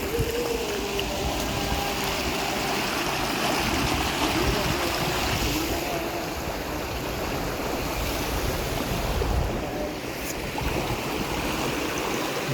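A stream flowing in a hidden spot in Kerala, with a loud, continuous rush and babble of water close by that holds steady throughout.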